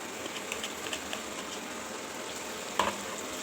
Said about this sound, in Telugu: దీన్ని ఇప్పుడు ఫ్రై చేసుకోవాలి పన్నీర్ పీసెస్